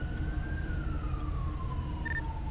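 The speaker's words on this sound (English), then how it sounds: "Oh, not another ambulance. Not another ambulance." A single ambulance siren tone slowly falls in pitch under a steady, loud traffic rumble, and a brief beep comes near the end.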